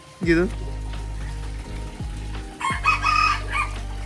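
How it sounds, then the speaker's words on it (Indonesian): A rooster crows loudly and close by, a drawn-out call rising and falling, with a second crow partway through over a steady low hum. "Aduh, suara ayam."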